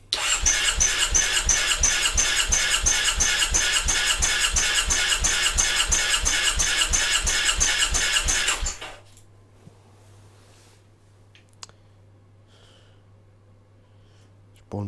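A Triumph Bonneville motorcycle engine cranks at wide open throttle during a compression test, a loud, fast rhythmic chugging of the starter that runs for about nine seconds and then stops, leaving quiet with a few faint clicks.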